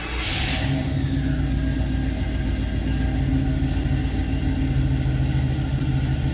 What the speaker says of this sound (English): All right, time to do a cold start.